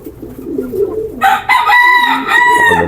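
A Wickham gamecock rooster crows loudly and close by, its strained, ringing call starting midway after some low background murmur.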